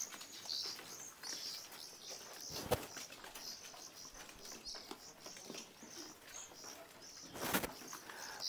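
Caged songbirds such as magpie-robins and white-rumped shamas chirp and call repeatedly, faint and somewhat distant over steady background noise, with a couple of brief sharp bursts like wing flaps.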